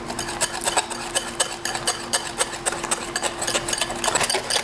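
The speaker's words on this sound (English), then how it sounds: "I keep whisking against the counter, and I know that it's making noise" A wire whisk beating eggnog pancake batter in a bowl, knocking against the bowl and counter in rapid, steady metallic clicks and taps, close and fairly loud over a faint constant hum, with no talking.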